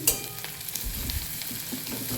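Onions fry with garam masala in a pan, a continuous close sizzle with faint stirring ticks throughout, steady and unbroken, no voices.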